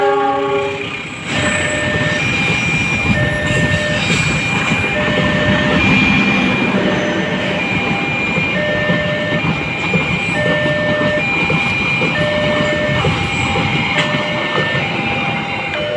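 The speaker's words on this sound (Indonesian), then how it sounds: "Jayakarta Premium telah melintas langsung di stasiun Cikarang" A Jayakarta Premium passenger train runs straight through Cikarang station past a level crossing, close and loud, with a steady rumble of rolling wagons and repeated blasts of the horn throughout.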